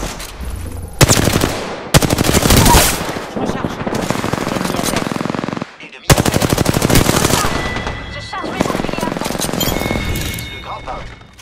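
Automatic gunfire in a first-person shooter video game comes in long, loud, rapid bursts broken by brief gaps, with a sharp, metallic crack to each shot and a few beeps near the end.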